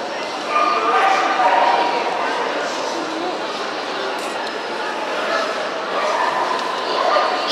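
At the Euro Dog Show 2018, where Curly Coated Retrievers are shown, dogs bark and yip repeatedly over a busy hall murmur, with voices talking throughout.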